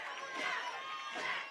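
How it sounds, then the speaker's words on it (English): Crowd noise at a high school varsity football game between Holliston and Scituate at Kamitian Field, a steady broad murmur of many fans cheering and chattering in the stands with mingled voices throughout. "Great crowd here at Kamitian Field. Excited to cheer their Panthers on."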